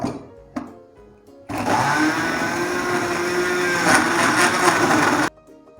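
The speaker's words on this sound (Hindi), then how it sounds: "इसको आप ब्लेंड करेंगे।" An electric blender whirs loudly and steadily for about four seconds, blending loquat juice with lemon, salt and black salt, after quieter kitchen handling at the start and a sudden stop at the end.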